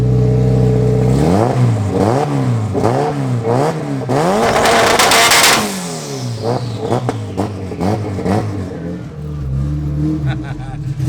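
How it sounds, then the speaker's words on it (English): A turbocharged Honda Civic engine revs hard several times in rising and falling pulses, then climbs to a loud roar before settling into a rough idle. "I'm gonna leave y'all with a little bit of revs"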